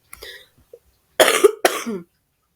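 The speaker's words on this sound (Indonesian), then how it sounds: "Maaf ya, saya sedikit batuk." A short throaty cough followed by a quick second one, close and clear, with a faint small sound before them.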